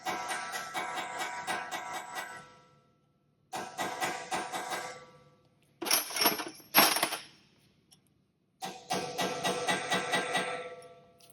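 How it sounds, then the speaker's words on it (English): A chisel or punch taps repeatedly on the crimped axle nut of a 2012 Honda Odyssey CV axle, sharp metallic strikes in bursts separated by brief pauses, close and fairly loud. "This particular axle nut has a crimp on the end, so we need to make sure and relieve that crimp"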